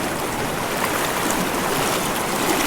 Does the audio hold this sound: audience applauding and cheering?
no